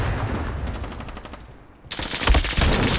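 Shotgun gunfire in a Roblox shooter video game, a dense rapid volley of loud, close blasts that briefly thins out and then surges back even harder over a noisy, busy game background.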